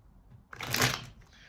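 Tarot cards being shuffled by hand during a reading, a brief papery riffle and slide that swells to a louder burst then fades, close and alone with no talk.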